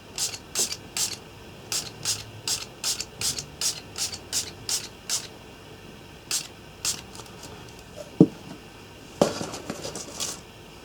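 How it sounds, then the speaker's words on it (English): A spray bottle of isopropyl alcohol misting a model railway diorama, a quick run of about a dozen short, crisp spritzes in steady rhythm, then a few scattered sprays and clicks, close up with no talking. "I'm going to give this a spray with the IPA first"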